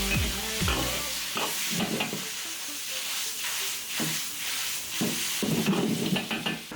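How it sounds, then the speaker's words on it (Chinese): Beef aorta with pickled chilies, soy sauce, vinegar and Sichuan pepper oil is stir-fried in a wok, giving a soft, steady sizzle with occasional scrapes and stirring knocks, fairly quiet and without voices. "再淋上少许花椒油，翻炒均匀就差不多要得了。"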